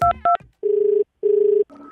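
A telephone being dialed: two quick keypad tones, then two longer held tones, with a ringing tone starting at the end. No one speaks.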